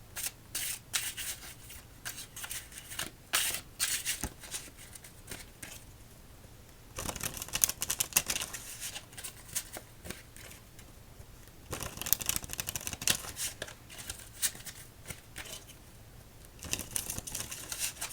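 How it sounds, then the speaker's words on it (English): A deck of playing cards being shuffled over and over, with crisp riffling bursts and soft shuffling rubs that repeat in clusters, close and quiet with no talking. "shuffle up our cards, and get this one underway"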